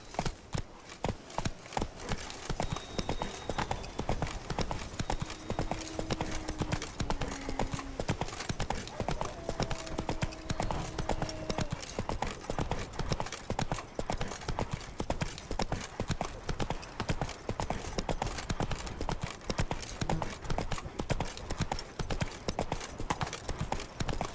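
Roach the horse trots in The Witcher 3: Blood and Wine, with steady, dense hoof clip-clops that run continuously and fill the foreground, while a faint tonal murmur rises briefly partway through.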